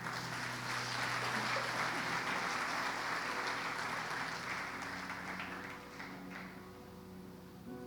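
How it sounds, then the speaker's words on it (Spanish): A church congregation claps loudly for the Lord, a dense roomy applause with a steady tonal hum beneath that gradually eases and thins toward the close. "Dale un fuerte aplauso al Señor."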